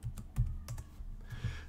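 Keystrokes on a computer keyboard as a command is typed into a Linux terminal, a quick run of close, crisp clicks with a short pause partway through.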